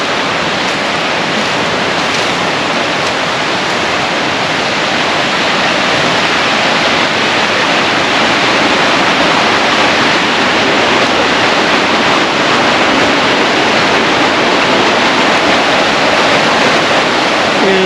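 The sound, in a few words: rapids in a stream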